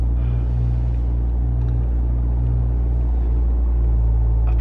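Low, steady idle of a Toyota A90 Supra sports car engine with a deep rumble, constant and close, with no speech.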